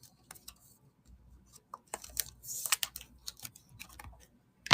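Someone types on a computer keyboard, scattered clicks and short flurries of keystrokes, close and fairly quiet, with no talk.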